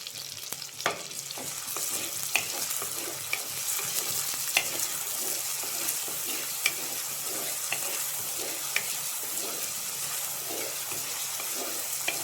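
Beef liver sizzles steadily in a hot pan while a spoon stirs it, with soft scraping clicks recurring every second or two over a constant frying hiss.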